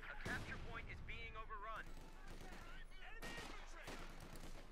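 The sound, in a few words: mortar fire in Company of Heroes 2 video game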